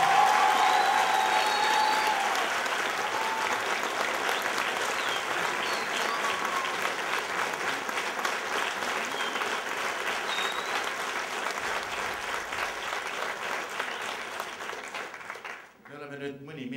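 Sustained audience applause at a school anniversary reunion concert, loud at first and slowly thinning, with crowd murmur underneath and a brief stretch of speech near the end.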